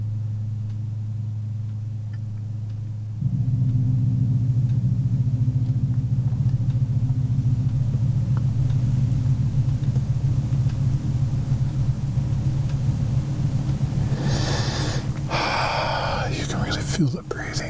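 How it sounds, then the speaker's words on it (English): A water gong rings out in a sound-creation session, a deep sustained low hum that swells after a few seconds and holds steadily, with brief breathy noises and soft movement near the end. "That's the center of my sound creation water gong number 4."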